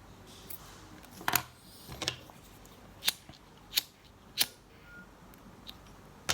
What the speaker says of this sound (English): Now we need to trim this extra leather here.